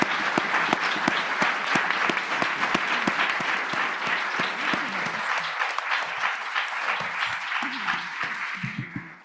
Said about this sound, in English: please join me in a round of applause for this wonderful panel